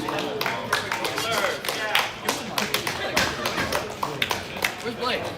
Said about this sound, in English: Big round of applause to Blurs 2.